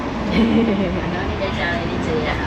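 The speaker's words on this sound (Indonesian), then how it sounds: "Ya, kita bersama-sama naik kereta nih." Passenger train ride in Indonesia, a steady rumbling cabin noise throughout with voices talking over it.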